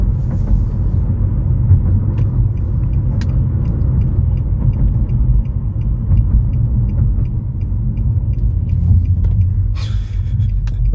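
Inside a 2014 Nissan Maxima SV on the move, a steady low road rumble and tyre hum fill the cabin, with a few faint ticks and a brief brighter rush near the end.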